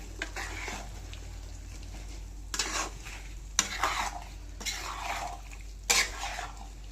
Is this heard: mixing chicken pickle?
yes